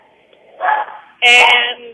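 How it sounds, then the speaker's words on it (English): A dog barks twice in the background of an online webinar, two short bursts a fraction of a second apart, the second louder, while a person speaks over it. "that's my dog barking."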